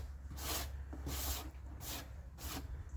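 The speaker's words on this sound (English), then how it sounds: "So when the varnish dried, I just sand it a little bit" Light hand sanding across the top face of varnished wood: four soft, brief scuffing strokes at an even pace, close but quiet, with no talk.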